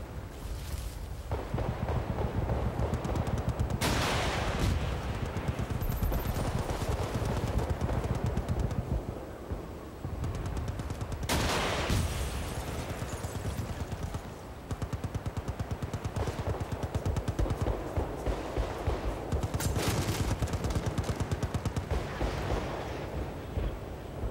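Gunfire in the video game Battlefield: Bad Company 2, played as an engineer: dense, loud bursts of shots and booming blasts run almost continuously, with several sharp bright crack peaks standing out above the steady din.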